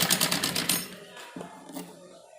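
A sewing machine stitches down a folded neck strip on a girl's pleated frock, running in a quick rhythmic whir for under a second before stopping and leaving quiet handling sounds.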